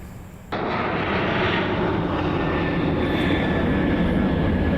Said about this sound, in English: Aer Lingus on final.